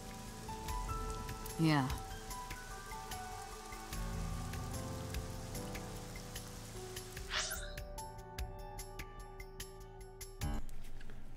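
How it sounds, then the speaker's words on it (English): Rain falls steadily in AI: The Somnium Files, a soft patter spread under game music and sound effects, while a voice speaks briefly over it. "God, the rain is awful."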